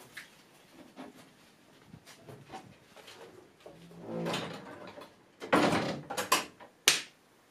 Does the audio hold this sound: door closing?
yes